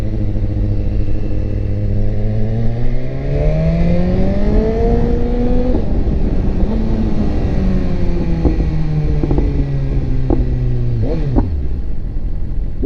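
A BMW S1000RR motorcycle engine revs hard toward full RPM, its pitch climbing in long loud sweeps, then dropping and rising again with a few sharp pops near the end, close and continuous with no talking.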